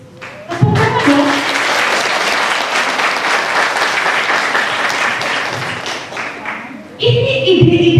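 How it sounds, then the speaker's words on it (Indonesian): Members of a PKK community gathering in Depok break into lively applause, a loud burst of steady clapping rising after brief speech and running several seconds before a voice over a loudspeaker takes over. "Tepuk tangan dong."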